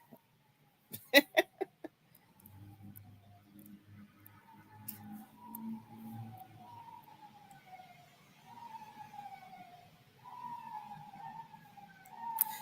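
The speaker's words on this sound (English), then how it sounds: "Oh boy, more sirens." A distant wailing siren rises and falls repeatedly, faint and steady, after a few sharp clicks at the start.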